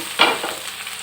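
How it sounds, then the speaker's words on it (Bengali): A brief stir of chicken pieces frying in a pan, with a scraping burst near the start that fades into a soft, steady sizzle, close and alone with no talk. "এবারে ঢাকাটা সরিয়ে নেব এবং মাংসটা একটু নাড়িয়ে দেব"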